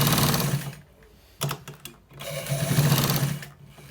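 Sewing machine stitching a V-neck collar, two close bursts of rapid rhythmic whirring separated by a short pause with a few clicks.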